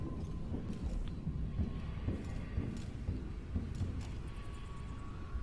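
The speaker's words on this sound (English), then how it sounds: "Oh, it's my footsteps" Footsteps thud in an uneven walking rhythm in Dishonored 2, faint and close beneath a low steady hum of ambient noise.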